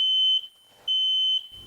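A smoke alarm sounds two long, loud, piercing beeps separated by a short silence, close and alone, with no voice heard.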